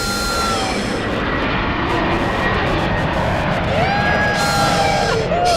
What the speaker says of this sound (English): It's the plane that sounds like a train.